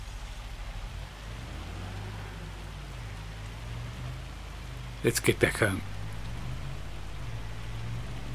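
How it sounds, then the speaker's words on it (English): Hail pelts a farmyard in the video game Farming Simulator 25 as a steady, dense hiss that runs the whole time, and someone speaks briefly over it partway through. "see what the hail is doing to our farmyard"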